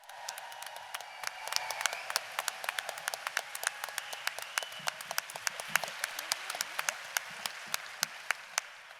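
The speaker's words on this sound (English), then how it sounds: "Could you please give a massive round of applause, a really huge, warm filial welcome for Susan Hawthorne." An audience applauds to welcome a speaker to a talk on misogyny. Many separate crisp claps ring out in a steady patter, fairly faint and distant, lasting several seconds with no voices on top.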